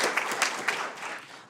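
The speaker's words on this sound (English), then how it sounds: "we give them a last round of applause" A short burst of applause at a county board of supervisors meeting, moderately loud with a few sharper claps standing out and fading toward the end.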